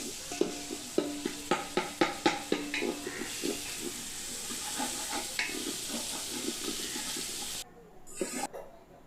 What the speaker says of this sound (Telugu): ఇప్పుడు 3 టమాటాకాయలు వేసుకుందాం. బాగానే అవి మెత్తగా అయ్యేదాకా బాగా వేపుకుందాం.